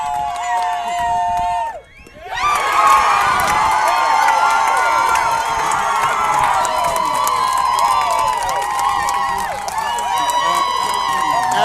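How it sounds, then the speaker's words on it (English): A baseball crowd cheers and shouts loudly after a strikeout, with a short lull and then a surge of overlapping yelling and whoops that holds steady, some children's voices audible. "the reaction of the crowd says it all"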